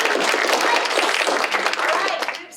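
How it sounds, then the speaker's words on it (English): A room of coaching-session participants applauds together, a dense steady wash of clapping lasting a couple of seconds before thinning out at the end, with faint voices mixed in. "let's give them a round of applause."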